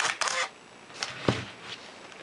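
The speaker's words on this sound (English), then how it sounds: "we can fire the shutter," A Canon EOS camera fires its shutter several times, producing short mechanical clicks and clacks close to the microphone, with a quick double burst at the start and a sharper snap near the middle.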